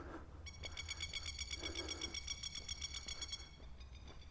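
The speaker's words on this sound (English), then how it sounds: "The birds are going off their tree, as they do." Birds in a tree at Goondi Bend, Innisfail, give a loud, rapid, repeated chattering call that rings steadily for several seconds over a low background hum, with a few lower coo-like notes mixed in.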